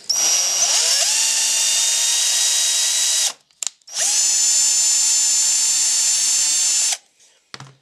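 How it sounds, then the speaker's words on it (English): A cordless drill tapping threads into holes while building a spray booth fan box whines at a high pitch, runs steadily for about three seconds, stops briefly, then runs again for three more, loud and close. "if you're tapping holes with a battery drill"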